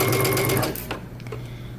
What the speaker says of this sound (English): Now we're going to stitch this down using 5/8 of an inch seam allowance.